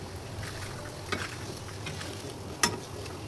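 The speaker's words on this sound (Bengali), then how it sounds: "এখন আপনাদেরকে তেলে ভেজে দেখাই দিচ্ছি।" Banana-leaf pitha, a traditional Narsingdi snack, fries in hot oil with a soft, steady sizzle. Two brief clicks rise above the fairly faint hiss.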